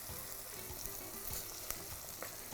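Onion, tomato and green chilli sauté in oil with fennel, cloves and curry leaves, giving a quiet, steady sizzle with a few faint stirring scrapes and no talking.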